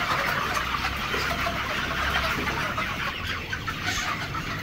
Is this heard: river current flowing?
no